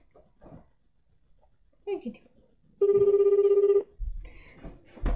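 A busy tone sounds once on a phone line in a steady electronic burst of about a second, with scattered talk and background noise before and after.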